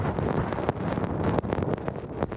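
Strong wind from a whirlwind roars across a small boat at sea in a steady, broadband rush, buffeting the microphone with gusts that rise and dip over continuous churning noise.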